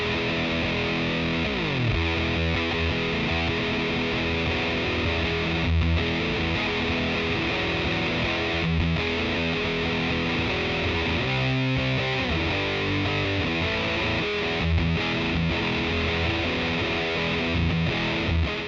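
Electric guitar through a muff-style fuzz preset on a Mooer Prime M2, thick and heavily distorted, played continuously as chords and riffs at a steady loud level.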